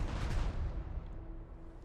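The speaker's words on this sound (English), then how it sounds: "American ships are firing." Warship guns firing in the Strategic Mind Pearl Harbor game, a low, muffled boom rumbling at the start and fading into a faint, quiet tail.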